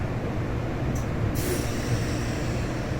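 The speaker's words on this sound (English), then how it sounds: "Train's going slow right now." Interior of a commuter train moving slowly through Queens toward Jamaica, a steady low rumble with a short hiss of air partway through.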